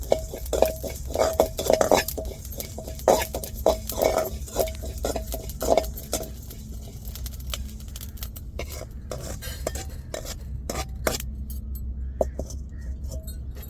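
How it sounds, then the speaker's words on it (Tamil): Cumin seeds are dry-roasted in a pan over a low flame for prawn pickle, with a metal spoon repeatedly scraping and clinking against the pan in quick, irregular strokes that thin out toward the end. "இப்போ வந்து சீரகத்தை வறுத்து எடுத்துக்கிடுவோம்"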